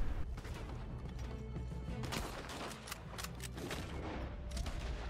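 Gunfire in a Red Dead Redemption 2 shootout, a shotgun among the weapons, cracks out in repeated sharp blasts over a steady noisy backdrop, with several bursts clustered around the middle and end.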